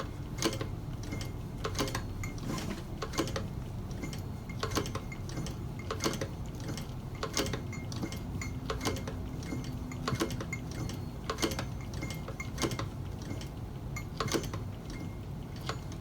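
A brand-new sewing machine stitches a green leather ostrich checkbook wallet, producing rapid bursts of ticking, clicking stitches over a low steady motor hum, close and fairly quiet with no talking.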